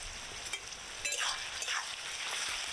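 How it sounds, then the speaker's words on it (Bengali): Chopped onion, bay leaf, dried chilli, cumin, cardamom and cinnamon frying in hot oil, producing a steady crackling sizzle with occasional stirring scrapes, close and moderately loud. "এবার এই তেলের মধ্যে ফোড়ন দেব।"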